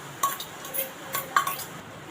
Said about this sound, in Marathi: किसलेला नारळ खोबरं आपल्याला परतून घ्यायचं आहे हलकंसं